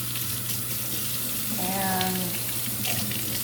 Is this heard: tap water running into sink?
yes